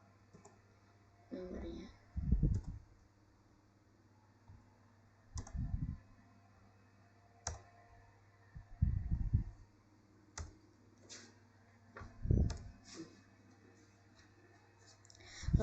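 Numbers are typed on a computer keyboard as short bursts of sharp, close clicks with pauses between them, while a quiet voice talks now and then.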